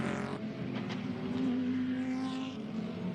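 A Porsche 991 GT race car drives hard through the turns at the Ningbo circuit in qualifying, its engine revving up and down through the gears at moderate distance with no voices.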